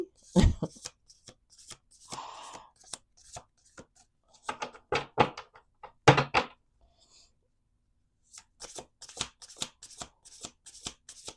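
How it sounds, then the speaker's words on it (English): A deck of oracle cards being shuffled by hand, close up, in a series of quick riffling bursts separated by brief pauses, with soft taps and snaps of the cards settling between shuffles. "Let's do 2 more shuffles."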